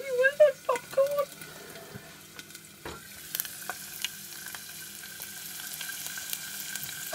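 Wood ear mushrooms frying in a pan, spitting and popping with sharp crackles, loudest in a cluster early on, then settling into a steady sizzle with scattered pops while someone speaks.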